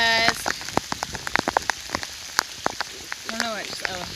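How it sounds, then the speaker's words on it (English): Heavy rain drums hard on camping gear along a hiking trail, a dense patter of sharp drops, while voices speak over it near the start and again toward the end. "it's raining so hard."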